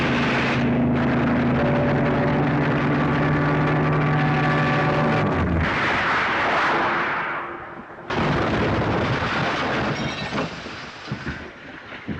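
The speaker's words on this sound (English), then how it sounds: "Gun." Heavy gunfire and rumbling blasts fill a WW2 war film scene, a loud continuous roar of shooting and engine drone that dips briefly before surging again.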